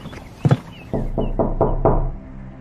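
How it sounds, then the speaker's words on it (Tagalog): Knocking on a door in a rural village house at night: a few close, solid raps, then a steady run of four or five evenly spaced knocks, loud and alone. "biglang merong kumatok"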